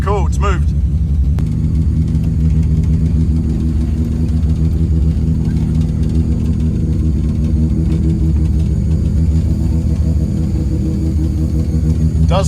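A Mazda 323 fitted with a 13B turbo rotary engine idles and rolls under its own power, a loud steady low rumble with revs rising and falling, close by, with people talking over it.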